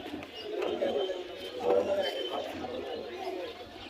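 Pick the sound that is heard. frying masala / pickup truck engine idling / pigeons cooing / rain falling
pigeons cooing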